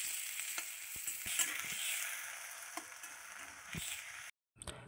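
Onions, chili, potato and garlic fry in mustard oil in a wok, a close steady sizzle with intermittent stirring taps and scrapes, briefly cutting out near the end.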